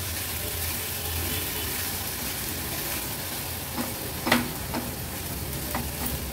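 Washed barnyard millet roasting in ghee, with a continuous close frying hiss and a few brief scraping stirs toward the end.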